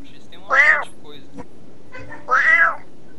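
Two drawn-out meows from a cat in a Minecraft city map, clear and close, spaced about two seconds apart over a faint background hum.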